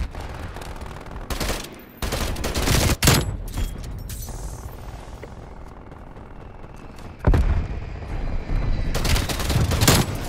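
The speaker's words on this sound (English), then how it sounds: "Like, why would you shoot your gun?" Gunfire in the online shooter Black Ops Cold War comes in repeated rapid bursts, several loud volleys with quieter stretches between, some distant, heard without talk.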